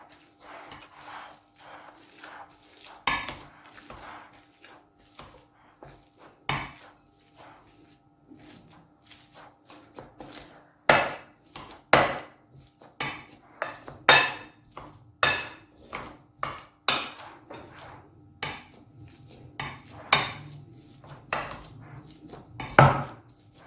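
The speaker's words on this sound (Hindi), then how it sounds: "इसको अच्छी तरह मैश करना है मैंने" Boiled potato being mashed in a bowl: a series of irregular soft thuds and clacks of a utensil against the bowl, growing busier and more rhythmic toward the end, with no talking.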